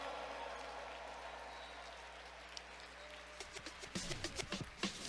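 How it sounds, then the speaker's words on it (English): An audience begins applauding panelists at a panel discussion, starting faint and swelling into louder, closer clapping over the final seconds. "Give them a big round of applause."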